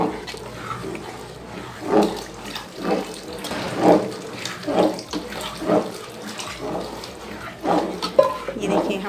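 Water pours into a pot of kheer while a spoon stirs it, a gurgling, splashing stream that rises and falls in repeated surges, with light sounds of stirring and handling beneath.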